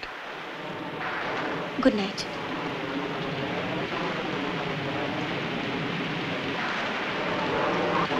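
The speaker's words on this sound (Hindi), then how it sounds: "बाहर तो जोरों की बारिश हो रही है" Steady, dense rain noise fills the whole clip, loud and continuous, with a brief spoken word near the start.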